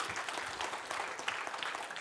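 Brief applause from an audience at a health seminar, a moderate wash of hand claps that carries through the short stretch without any words.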